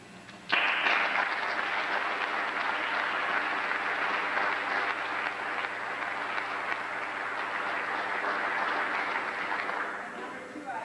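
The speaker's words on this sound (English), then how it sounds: "And I think that they all deserve an applause" Applause for the volunteers after a mock accident demonstration for teenagers, starting abruptly and holding as a steady, even wash of clapping from a large audience before easing off at the end.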